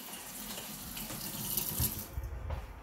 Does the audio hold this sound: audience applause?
no